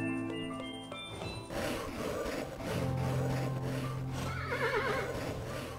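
A horse in the video game Kingdom New Lands gives a loud, drawn-out whinny that wavers and rises over soft game music, alone with no talk.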